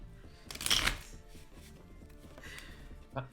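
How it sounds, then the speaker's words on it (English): A deck of cards riffled in a quick burst of shuffling, close and fairly loud, followed by softer handling sounds and a couple of sharp clicks near the end, with faint background activity underneath. "I mean, I shuffled it normal."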